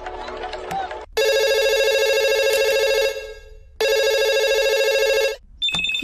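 A telephone rings in two long electronic bursts with a pause between, loud and close, after a brief stretch of talk and followed by a short tone.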